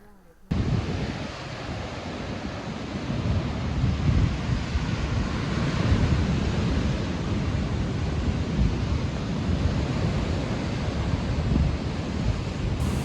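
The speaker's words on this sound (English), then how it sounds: "So quick stop down at the waves" Steady roar of ocean surf breaking on the shore at Auchmithie, Scotland, loud and continuous, with wind buffeting the microphone throughout.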